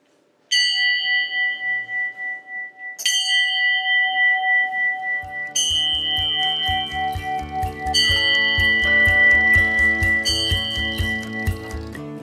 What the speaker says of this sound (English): we're going to ring this bell 11 times alternately, starting Ray with you.